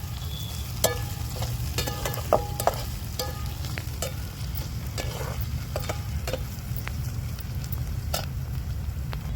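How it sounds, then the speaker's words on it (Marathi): Onions frying in a pan for egg bhurji, a steady close crackling sizzle with occasional sharp clinks and scrapes of a stirring spoon. "कांदा घ्यायला मस्त तळून झाला आता लाल लाल झाला की म्हणा झाला तळून कांदा"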